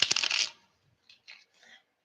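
Tarot cards shuffled and handled by a reader drawing clarifier cards, a dense burst of riffling for half a second followed by a few soft separate card slaps and slides, close and unaccompanied by talk.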